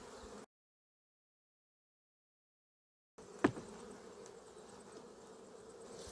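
Honey bees buzz around a hive super being handled during a harvest, a faint, steady drone with a sharp knock early on.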